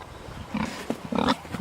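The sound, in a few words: pigs grunting on pasture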